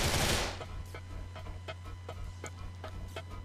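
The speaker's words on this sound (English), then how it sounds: "I can't aim at him with my rifle, so bring out the sniper" Sniper rifle shots ring out in the video game GTA IV: a loud burst at the start, then a series of sharp, evenly spaced cracks over a steady low hum. No one speaks.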